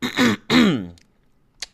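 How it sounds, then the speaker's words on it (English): Two loud, rough throat clearings close to the listener, one right after the other, then a brief quiet and a faint click. "excuse me for always clearing my throat"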